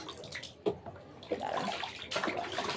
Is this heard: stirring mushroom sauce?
no